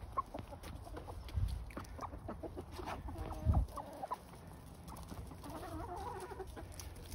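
Hens cluck and murmur in a coop kept for meat chickens, soft irregular calls coming and going, with a few louder bumps and rustles close by.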